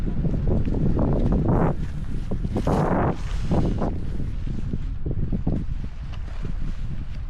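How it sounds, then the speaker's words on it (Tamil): Strong wind buffets the microphone at a night campsite with a tent, in heavy, continuous low roaring gusts that surge and ease throughout. "காற்று பார்த்தீங்கன்னா இன்றைக்கி ரொம்ப பலமாக அடிக்குது"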